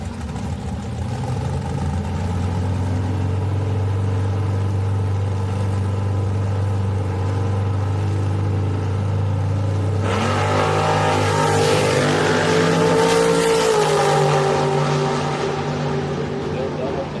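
A drag racing car at Houston Raceway Park during a bracket race holds a steady low engine drone, then roars and rises in pitch as it accelerates away, loud and continuous under commentary.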